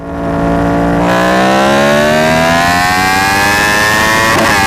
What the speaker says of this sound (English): One of the spicier inline 4 configurations is Yamaha's R1, the crossplane inline 4.